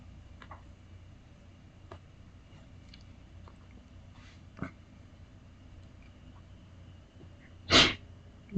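A single sharp sneeze bursts out near the end, close and loud, after a few faint ticks and small mouth sounds over a quiet background.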